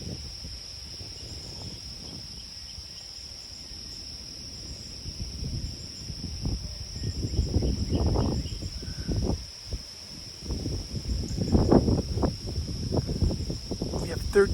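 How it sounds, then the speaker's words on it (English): Wind gusts through trees at up to 31 miles per hour, rising and falling in rushing surges over a constant high insect-like hum, with louder bursts later on. "Do you guys hear the wind through the trees?"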